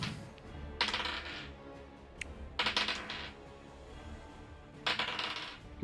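Handfuls of dice rattle and clatter onto a table during a Shadowdark tabletop role-playing session, three separate rolls close by, each a quick burst of clicking that dies away, with no talking.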